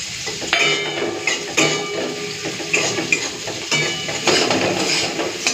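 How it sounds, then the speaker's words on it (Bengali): Onion dropped into hot oil for tempering sizzles steadily in a pan. Scraping and clinking stir strokes come at intervals, close and clear, with no one talking. "এখন তেলের মধ্যে ফোড়ন দিয়ে দিচ্ছি পেঁয়াজ"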